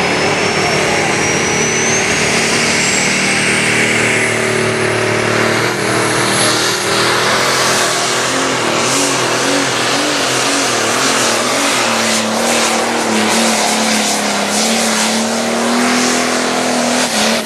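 A light pro stock pulling tractor screams loud and close under full throttle during an NTPA pull at Fort Recovery, Ohio. The engine roars unbroken and the pitch wavers and climbs as the machine rears and strains down the track.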